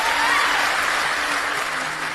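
A TPUSA political crowd claps and cheers in a dense, sustained wave of applause that fills the space, holding steady before easing slightly toward the end.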